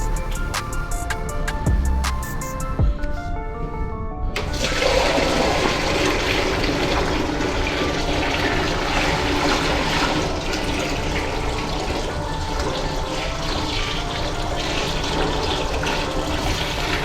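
A bucket of water poured into a plugged restaurant urinal drain makes a loud, continuous rushing gush that starts abruptly after a few seconds and keeps churning steadily until the end.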